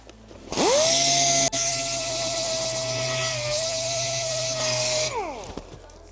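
A power sander working on the face of a grave surround memorial, a loud steady high whine that spins up, holds for about four seconds and winds down.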